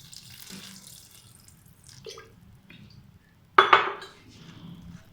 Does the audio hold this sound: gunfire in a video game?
no